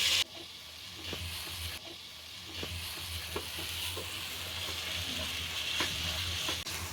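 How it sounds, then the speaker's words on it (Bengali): Rice fries in ghee with ginger-garlic paste and salt for pulao, a soft, steady sizzle with periodic scraping stirs of a spoon in the pan. "এখন আমি এই চালটারে ভাজা ভাজা করতেছি।"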